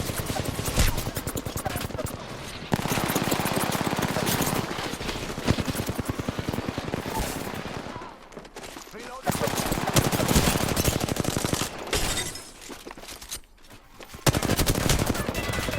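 Sustained automatic gunfire in a sci-fi video game shooter arena match, loud and dense bursts with brief lulls, near and rattling throughout.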